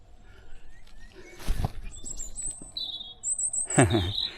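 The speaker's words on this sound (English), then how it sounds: "Can you hear the bird song?" Bright, high chirps and short warbling phrases from a singing robin, fairly close, over soft rustling and a couple of low knocks.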